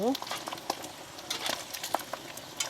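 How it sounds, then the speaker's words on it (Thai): Pork fat frying in a pan to render lard, a soft steady sizzle with scattered pops and crackles, faint and close, under a voice. "วันนี้มาทำอันนี้ดิจ้ะ เจียว มันหมู"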